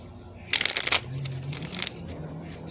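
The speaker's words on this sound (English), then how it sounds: "5 shuffles for the mutable signs." A quick riffle of cards being shuffled, a brief crisp flutter followed by softer handling sounds and a low murmur.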